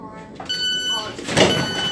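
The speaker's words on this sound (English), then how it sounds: "I'm going to open the door for him." Sliding door of a Class 700 Thameslink train opening: warning beep tones, then a rushing mechanical slide with a soft thump, heard close up inside the carriage with a voice nearby.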